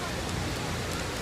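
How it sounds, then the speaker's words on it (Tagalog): Steady rain falls in Seoul beside Cheonggyecheon Stream, a dense, even hiss of rainfall close at hand with no break across the short stretch. "Walang tigil ng ulan nga talaga, simula kahapon."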